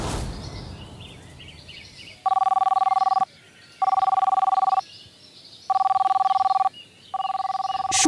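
A telephone rings indoors in four regular electronic bursts separated by short gaps, clear and fairly loud over a quiet background.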